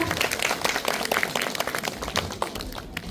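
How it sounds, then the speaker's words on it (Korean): Audience applause for award winners at a Daegu senior welfare evaluation ceremony in a community hall: a steady, fairly close burst of many hands clapping with sharp individual claps throughout. "오늘 이렇게 수상하신 많은 분들께 다시 한번 축하의 큰 박수 부탁드리겠습니다"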